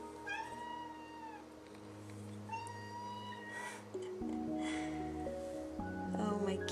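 Several cats meowing in a row, clear rising and falling mews repeated close by, with soft background music underneath and no talking.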